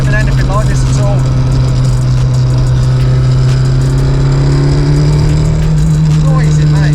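A rare, banned rally car engine runs loud and close, its steady low rumble rising in pitch as it revs, with a voice talking over it.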